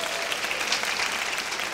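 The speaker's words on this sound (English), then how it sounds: "Let's give them all a round of applause." Audience applause at a senior women's pageant in Washington, DC, a steady dense wash of many hands clapping at a constant level throughout.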